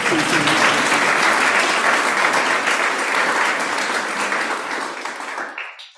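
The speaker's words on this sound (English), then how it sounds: "Yes, you clap for Prof. Ben" A crowd applauds loudly and steadily, dense clapping that holds for several seconds before fading out at the end.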